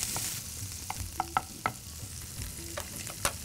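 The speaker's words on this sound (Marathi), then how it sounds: "तर थोडंसं बटरवरती टॉस करायचं आहे आपल्याला" Kabuli tadka ingredients get tossed and stirred in butter in a pan, with scattered scrapes and clicks of a spatula against the metal over a low sizzle, without talk.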